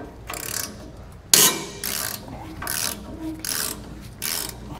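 Rhythmic ratcheting clicks as U-bolt nuts are turned off a trailer axle with a half inch breaker bar, about six evenly spaced bursts close by, with one sharper clank partway through.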